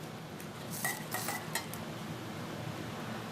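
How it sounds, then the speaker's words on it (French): Large fork clinking against a plate while twirling fresh tagliatelle dressed with butter, a few short metallic chinks and scrapes close by over steady background hiss, no talking. "J'adore l'art de tourner la fourchette, la grande fourchette, à chaque fois pour les tagliatelles"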